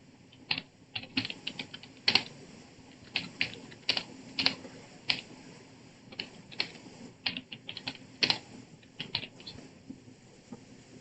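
Irregular bursts of keystrokes on a computer keyboard, close and fairly quiet, with short pauses between clusters of taps while coding in JavaScript; no talking.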